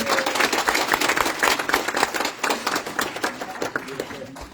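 Audience applause at a Dearborn Heights city council meeting, steady clapping lasting the whole stretch at moderate loudness, with voices mixed in underneath.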